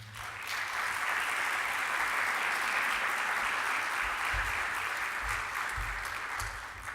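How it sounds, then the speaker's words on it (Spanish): An audience at a cultural lecture event applauds, a dense, steady roar of clapping that swells quickly, holds loud for several seconds and tapers slightly at the end. "Un aplauso para ambos, por favor."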